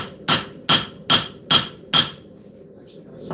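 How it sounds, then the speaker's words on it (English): A hammer forges a knife tang with five sharp, ringing blows at an even pace, followed by a brief quiet moment. "And thin out the tang a little bit."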